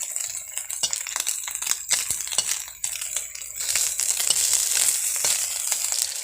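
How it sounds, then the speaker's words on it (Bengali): Small live mourala fish fry in oil for a chorchori. A crackling sizzle carries on underneath sharp clinks and scrapes of a utensil against the pan, close and fairly loud, growing denser toward the end. "মৌটি মাছগুলো মা যে ভেজে নিচ্ছে"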